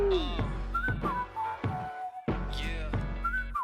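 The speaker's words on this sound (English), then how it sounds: "I'm so weak for whistle melodies." A whistled melody from a song carries a few short tonal phrases over a pulsing, punchy beat, heard moderately soft in a reaction recording.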